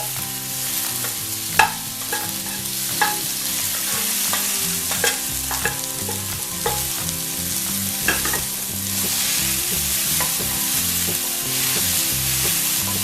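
Soya chunks stir-fry in a pan with a continuous loud sizzle and repeated scraping and stirring knocks of a spoon, and no one talks.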